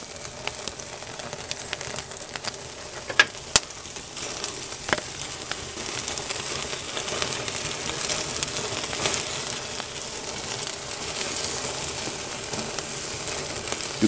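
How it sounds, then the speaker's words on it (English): Bacon frying over an open fire, a continuous dense sizzle and crackle of grease, close and fairly even, with a few sharp pops rising above it and no voices. "the grease from the bacon is also igniting the fire"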